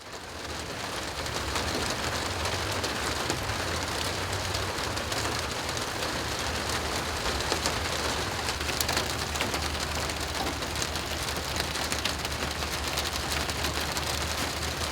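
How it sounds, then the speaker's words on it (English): Steady heavy rain pours down onto surfaces nearby, a dense, even hiss of drops that runs without a break for the whole stretch. No voices are heard over it. "It's raining again."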